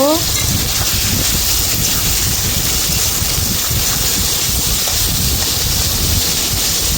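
Diced potatoes frying in hot oil with cumin, giving a loud, continuous, dense sizzle and hiss that holds steady throughout, with a brief voice-like tone at the very start.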